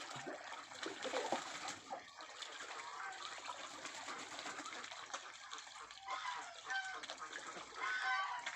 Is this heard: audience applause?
no